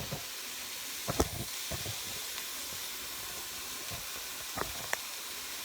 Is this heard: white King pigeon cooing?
no